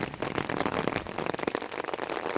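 Rain falling outdoors in Pakistan during the 2022 floods, recorded in the open: a constant dense patter and hiss of drops, moderately loud and close, with no clear speech.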